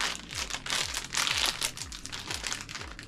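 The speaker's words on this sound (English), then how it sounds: "let's rip these guys open here" No Whey Foods Smooches, dairy-free chocolates like Kisses, get ripped out of their packaging with loud, close crinkling and tearing in repeated bursts for about three seconds, with no voice.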